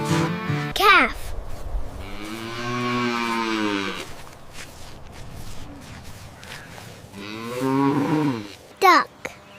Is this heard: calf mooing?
yes